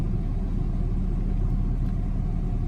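A cold Audi 80 quattro 2.3 NG engine with K-Jetronic injection idles smoothly with the lights, air conditioning and blower switched on. It makes a steady, even low rumble with no revving.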